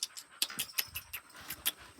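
A young dog whimpers close by in a quick run of high, thin whines and yelps, a dozen or so short cries in two seconds.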